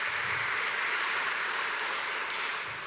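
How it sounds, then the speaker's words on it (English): A church congregation applauds the Reverend, a steady, fairly quiet and somewhat distant patter of many hands clapping continuously for a few seconds. "Let's give the Reverend a round of applause."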